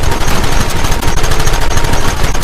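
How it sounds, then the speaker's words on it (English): Dense, continuous gunfire from many guns in Red Dead Redemption, loud rapid volleys overlapping with no pause through the whole stretch. "Targets on the horizon! Fire at will!"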